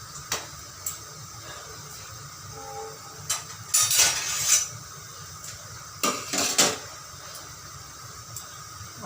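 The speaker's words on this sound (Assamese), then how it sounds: "কেৰাহীটো বহাই দিলোঁ।" A metal wok is set on a gas stove before frying grated coconut, giving a few loud, sharp metallic clanks and scrapes in bursts, separated by quiet kitchen background with no talking.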